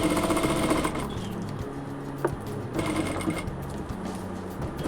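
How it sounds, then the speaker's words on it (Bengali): A sewing machine runs steadily while stitching small saris, a continuous mechanical whirring hum with a brief pause and faint clicks partway through, close and fairly loud with no talking. "ছোট্ট ছোট্ট শাড়ি হবে, সেগুলোই এখন সেলাই করে নিচ্ছি। মেশিনে এখন এইটাই কাজ রয়েছে।"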